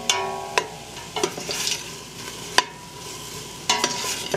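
Jambalaya with garlic cooking in a pot, a soft sizzle under intermittent scrapes and knocks of a spoon stirring against the pot, a few sharp clanks standing out.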